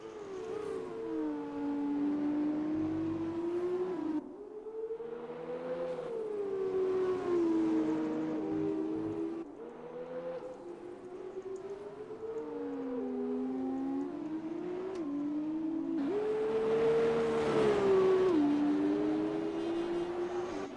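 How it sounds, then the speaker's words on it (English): A Formula 2 race car engine in a racing game at the Australian GP, a continuous high whine rising and falling in pitch with gear shifts and throttle changes, loud and steady with no talk over it. "you hear the noise of that Formula 2 car driving past"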